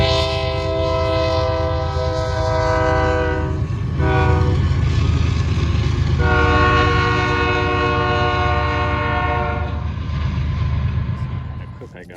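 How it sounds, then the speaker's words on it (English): A loud train horn blares in long sustained blasts at a railroad crossing without barriers, pausing briefly between them, over the heavy rumble of a passing train. "so they honk, they blow their horn"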